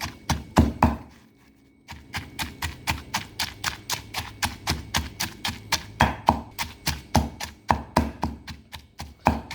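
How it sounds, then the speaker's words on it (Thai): Steady rhythmic pounding of a pestle in a mortar mixing tamarind chili paste with shrimp paste, a brief pause near the start, then quick regular thuds continuing close by without talk. "แล้วเราก็ตำให้เข้ากันอีกหนึ่งครั้งนะครับ"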